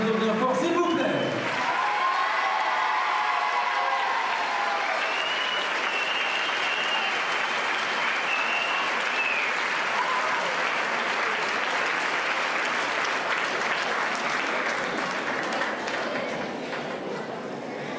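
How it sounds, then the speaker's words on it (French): A pageant audience at the Miss Saône-et-Loire 2014 contest breaks into sustained, loud applause with crowd cheering, clapping filling the room steadily for most of the stretch and tapering slightly at the end; voices rise briefly at the start. "On peut l'applaudir bien fort, s'il vous plaît."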